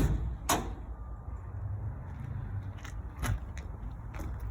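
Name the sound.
school bus emergency door being opened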